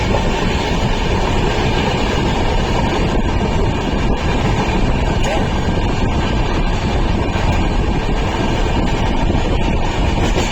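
The Goa Sampark Kranti Express, train 12450, rumbles along at speed, heard from on board as a loud, continuous roar of wheels and carriage noise mixed with wind.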